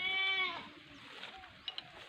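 A goat on a goat farm gives one clear, fairly close bleat, followed by quieter farmyard shuffling and a couple of faint knocks.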